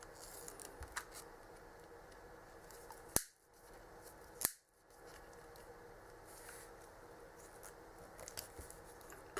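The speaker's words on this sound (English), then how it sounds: "Probably not the best use of snips in the world" Snips cutting through material in a vaping setup: two sharp, close snapping cuts about a second apart over faint background noise, with no talk.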